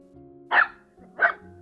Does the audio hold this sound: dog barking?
yes